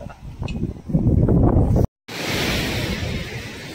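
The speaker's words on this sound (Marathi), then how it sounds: "इथं धरणाचे दरवाजे उघडले ते दाखवतो तुम्हाला" Water rushes from the opened gates of the Pimpalgaon Joga dam as a loud, broadband roar, buffeted by wind gusts on the microphone and broken by a brief cut.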